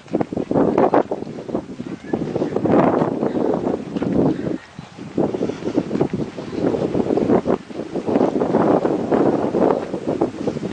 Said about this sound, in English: It's real windy out.